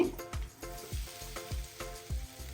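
Boiled, diced potatoes frying in a pan for a fasting-day batata bhaji: a steady, close sizzle of hot oil, broken by regular soft scraping knocks of a spatula stirring about every half second.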